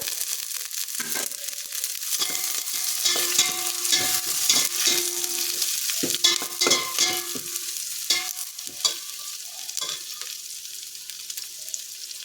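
Vegetables with baby corn stir-fried in a pan for noodles, a crackling sizzle under repeated scraping and clattering strokes of a spatula, close and continuous.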